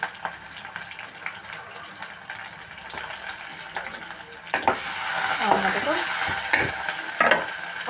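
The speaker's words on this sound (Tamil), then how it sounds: "இப்போ வந்து நம்ம வெட்டி வைக்கிறதுல சின்ன வெங்காயமும் சேர்க்குறோம்" Chopped shallots sizzle and are stirred in a hot pan, quiet at first, then louder scraping strokes and crackling frying toward the end, with no talk.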